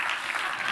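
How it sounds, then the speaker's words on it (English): A crowd at a live event in a hall claps and cheers briefly, a dense burst of applause that stays steady and loud throughout. "Give him a cheer, folks."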